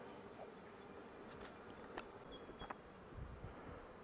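Honeybees stir around winter beehives outdoors, a faint steady buzz under light wind with a few brief louder passes close to the microphone.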